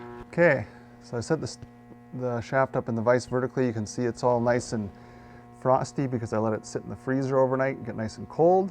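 A bearing heater warming a pinion bearing for a 2.5-ton axle gives off a steady low electrical hum, heard continuously beneath someone talking close by.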